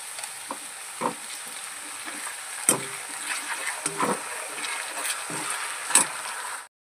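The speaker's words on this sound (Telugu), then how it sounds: "వెల్లుల్లిపాయ ముద్ద వేసిన తర్వాత చూడండి ఇలా వేగింది కదా" Ginger garlic paste frying with onions in a pan, a steady sizzle broken by repeated scraping and stirring clacks, fairly quiet and close, with no talking.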